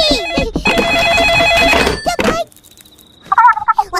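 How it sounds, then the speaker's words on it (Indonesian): A telephone rings in the Upin & Ipin animated cartoon, giving a bright electronic trill that cuts off and then returns as shorter warbling tones after a brief quiet gap. "Telepon."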